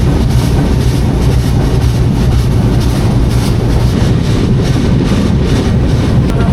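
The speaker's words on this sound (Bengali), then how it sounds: "এক্সপ্রেস ট্রেন নড়াইল রেলওয়ে স্টেশনে প্রবেশ করলো।" At night the Jahanabad Express train runs into Narail railway station, a dense, loud and unbroken rumble of rolling stock with wind buffeting the microphone and no voices.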